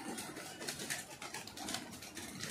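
Thirty-three racing pigeons released from their loft, heard as soft cooing and fluttering over a noisy, hissy background, with no talking.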